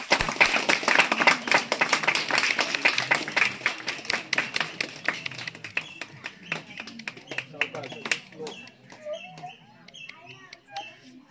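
An audience claps loudly in a dense burst of applause that thins into scattered claps, with people talking over it.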